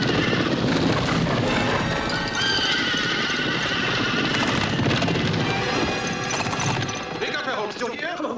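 Several horses neigh and whinny while hooves trample and clatter in a loud, chaotic scene from the 1976 film The Seven-Per-Cent Solution, with crashing noise and shouting mixed throughout.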